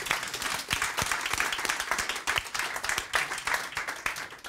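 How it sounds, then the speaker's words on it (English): An audience at a talk on an airline chatbot project claps continuously, with many distinct close hand claps forming an uneven, lively patter that holds steady before fading slightly. "give a big applause to all the Austrian people and all the people in this project"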